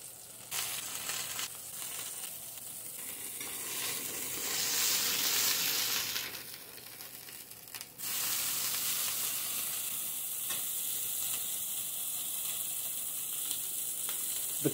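A sardine and beef burger patty sizzles in a pan with a steady, bright frying hiss that swells and eases, close and continuous with no talking.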